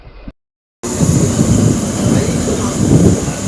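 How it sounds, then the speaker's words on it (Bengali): The 08001 Howrah to Haldia Special train pulls out of Howrah station, bursting in after a brief silence as a loud, steady low rumble of wheels and carriages, close and continuous to the end. "আমাদের ট্রেন ছেড়ে দিল হাওড়া"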